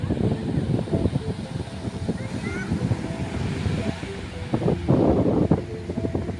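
Wind rushes past the microphone on a seashore with waves and beached fishing boats. It makes a steady low roar, and faint voices are mixed in.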